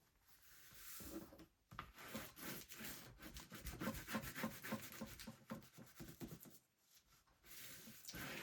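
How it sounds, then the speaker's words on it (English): Glitter-glue art is burnished down onto a binder cover with steady, close rubbing strokes in a rhythmic back-and-forth scrape, pausing briefly twice. "So we'll burnish that down."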